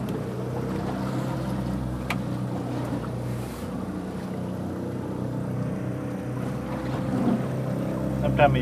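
A fishing boat's engine drones steadily out on deep water while salmon fishing off Westport, with wind and water noise around it and a slight rise in power near the end.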